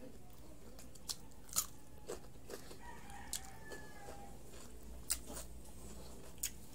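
Crunchy bites of cucumber eaten with cheese, a few sharp crisp chomps spaced irregularly over a quiet room background, close to the microphone with no talking.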